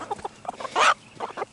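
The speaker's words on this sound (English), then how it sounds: "I'm stepping on chickens, sorry." Chickens clucking in a muddy farmyard pen with roosters about, short bursts of clucks with one louder squawk in the middle, close by.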